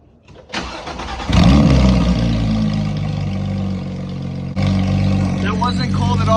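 A straight-piped Porsche 991.1 GT3 engine catches on a semi-cold start, cranking briefly then roaring into a loud, close, raspy high idle that stays steady with a further blip near the end, under some speech.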